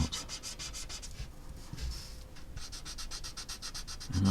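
A cotton bud rubs pencil graphite across paper in quick, regular back-and-forth strokes, a close, soft scratchy swishing that pauses briefly midway before resuming.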